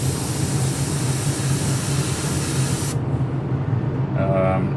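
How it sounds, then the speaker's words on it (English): An airbrush hisses loudly and steadily while spraying paint through its nozzle onto a model ship, the spray cutting off near the end and leaving a faint background. "I am having a problem though with the nozzle plugging up"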